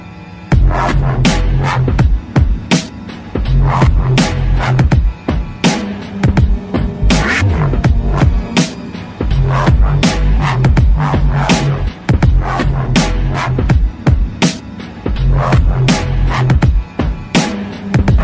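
A song by a band, loud full-band rock with pounding drums, driving bass and sharp rhythmic hits, playing without pause through several bars.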